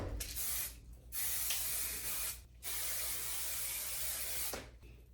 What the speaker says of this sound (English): shake that can, spray it everywhere.